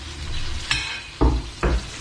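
Sea-caught catfish frying in a pan with melted hotpot base, a steady close sizzle broken by three sharp bursts as pieces hit or are stirred in the hot oil.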